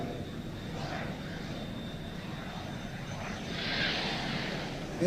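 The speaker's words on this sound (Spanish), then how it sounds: "Acá está la división de Filippi, Arca y Márquez, que son interceptados por los aviones Harrier." A Harrier jet flies past, a faint, steady aircraft roar that swells slightly near the end.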